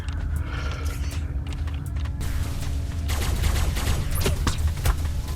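Shoulder cannon fire in the video game Ark on the Fjordur map, a rumbling stream of booming blasts and mechanical clatter, with sharper cracking impacts toward the end.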